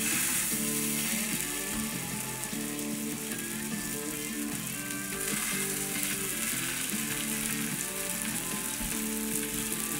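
Fish fillet frying in butter in a hot pan, a steady, loud, continuous sizzle with crackling throughout, no voices.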